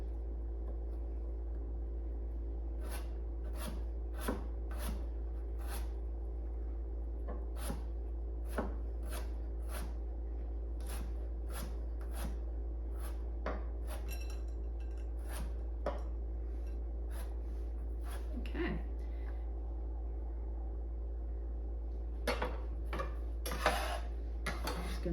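Jerusalem artichokes being minced into little chunks with a knife on a board, a steady run of crisp, close chopping taps, sometimes in quick clusters, over a low constant hum, with no talk.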